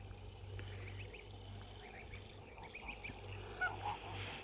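Goslings honk in a few soft, faint calls near running water on a farm, over a steady low hum and trickling background.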